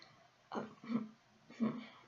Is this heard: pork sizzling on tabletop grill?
no